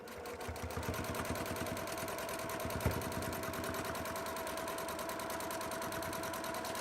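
A sewing machine runs steadily in a rapid, even rhythm while stitching near the edge of fabric, a close mechanical whir with dense repeated needle strokes and one small bump partway through.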